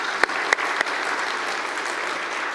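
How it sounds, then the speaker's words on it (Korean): A church congregation at an ordination service claps together, a few sharp individual claps at the start giving way to steady, dense applause throughout. "축가할 때 박수 한번 하겠습니다."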